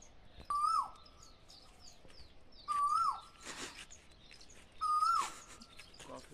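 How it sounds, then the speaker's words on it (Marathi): An Asian koel calls from a tree, giving three clear, rising whistled notes spaced a couple of seconds apart, fairly close and standing out over quiet background. "ऐकला का कोकिळेचा आवाज?"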